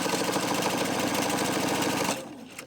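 A sewing machine runs fast and steady, stitching a 1 cm seam on a fabric shopping bag to the end with a backstitch, then the motor stops abruptly and the hum fades out.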